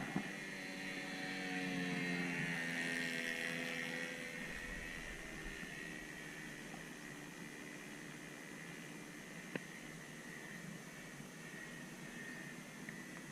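A radio-controlled model plane with an OS FS 30 four-stroke engine runs at full throttle. It makes a faint, distant buzzing drone whose pitch slowly drifts as it flies past, with steady background hiss.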